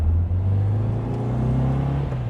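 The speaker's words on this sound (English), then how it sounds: "The hot rodded engine." Hot-rodded, fuel-injected engine of a 1959 Porsche 356A Convertible D idling close by, a deep steady rumble with a strong low hum and a faint whirring layer, holding an even level without revving.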